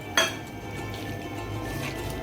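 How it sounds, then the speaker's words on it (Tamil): A spoon clinks once against a pan, then soft stirring and squishing of onion tomato masala paste continues over a steady background hum, with no talk. "அதை நல்லா மிக்ஸ் பண்ணுங்கள்."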